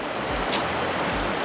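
Creek water rushes steadily at the bottom of a gully as a hiker wades across, a close, continuous broadband wash with no talk.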